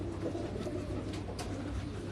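Pigeons coo softly and continuously on a Karachi rooftop loft, a low steady murmur of several birds close by with no talk over it.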